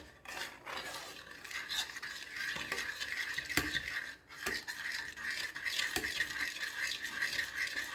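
Spoon stirring beaten egg yolks in a bowl while preparing a baked quiche, a steady scraping swish that runs continuously and fairly close, with small clinks and pauses, no one talking.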